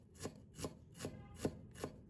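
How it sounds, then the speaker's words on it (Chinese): A knife mincing peeled ginger on a cutting board, five evenly spaced soft chopping strokes in a steady rhythm, close and quiet, with no voices. "再准备1块去皮的生姜，先切薄片，再切细丝，然后给它切成姜末。"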